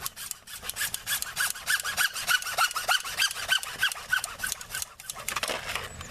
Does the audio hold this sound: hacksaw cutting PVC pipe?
yes